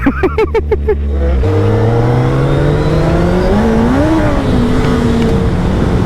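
A loud Suzuki Hayabusa motorcycle engine close by, opening with several sharp blips of the throttle, then settling into a sustained revving roar that climbs and falls in pitch as it pulls away under acceleration on the road.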